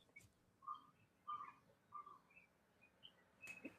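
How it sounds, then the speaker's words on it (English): A bird gives a series of short, faint chirps in the background, spaced roughly half a second apart, with a brief louder rustle near the end. "You heard the bird in the background"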